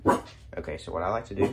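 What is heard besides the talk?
dog barking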